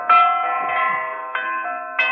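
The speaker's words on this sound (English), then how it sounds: "That blasted tolling is beginning to get on my nerves." Church bells toll a requiem at night, a sustained metallic ringing with layered overtones and fresh strikes landing roughly every half second to second, loud and close with no voices.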